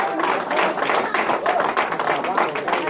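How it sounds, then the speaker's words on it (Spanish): A church congregation claps hard and fast in a dense, continuous burst of applause, close and loud throughout. "Fuerte, fuerte, fuerte el aplauso."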